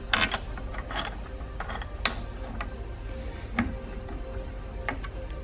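Heavy-duty adjustable truck bed rack bolt being tightened with a security tool, giving a series of close, irregular ratcheting clicks and metallic ticks over a low background hum.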